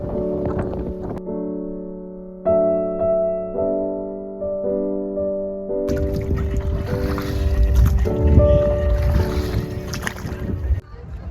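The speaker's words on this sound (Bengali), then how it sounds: "এখানে স্পিড বোট চলছে" A speed boat running on the Patratu Dam lake: a broad engine and water rush with wind buffeting, loud and close, coming in after a stretch of tonal music and lasting to the end.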